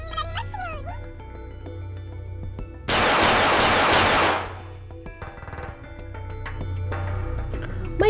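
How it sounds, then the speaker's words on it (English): A burst of rapid gunfire erupts in the video game Collar X Malice, loud and dense for about a second and a half. Softer game music and effects come before and after it. "Gunshots rang out during the declaration and the police officers were shot."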